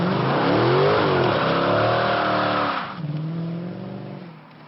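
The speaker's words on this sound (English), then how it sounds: "And now we're going to do a little burnout." A 2012 Dodge Challenger SRT8 392 V8 roars loudly and steadily during a burnout, revving high then dropping in pitch as it eases off, with no talking.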